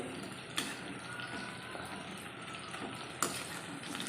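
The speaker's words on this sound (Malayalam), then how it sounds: "ചിക്കൻ സിക്സ്റ്റി ഫൈവ് ഇത് ഒരു സൈഡ് നല്ലപോലെ ഒന്ന് മൂത്തിട്ടുണ്ടെങ്കിൽ നമുക്കൊന്ന് തിരിച്ചു മറിച്ചും ഇട്ടൊന്ന് ഇളക്കി" Chicken 65 fries in oil with an even, moderate sizzle as the pieces are turned and stirred, with two sharp utensil knocks standing out against the steady hiss.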